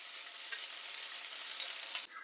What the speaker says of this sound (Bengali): আদা রসুন বাটা দিয়ে ভালো করে কষিয়ে নেব।